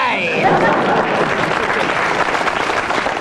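Studio audience applause at a radio comedy panel show recording, a full sustained wash of clapping that starts with a brief vocal hum and then holds steady and loud throughout.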